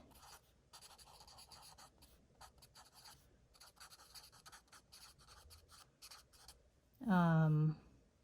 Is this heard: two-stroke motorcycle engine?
no